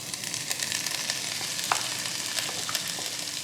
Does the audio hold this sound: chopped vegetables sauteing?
yes